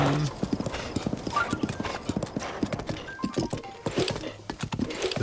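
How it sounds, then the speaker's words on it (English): Hooves clip-clop at a stable in a video game, a quick uneven run of near hoof knocks with a brief whinny, under a low game backdrop of faint tones. "Oh, there's a horse situation."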